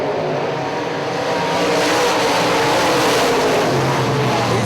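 UMP modified race cars roar around Hartford Speedway Park, a loud, dense engine drone that swells slightly as the pack passes, with no voices.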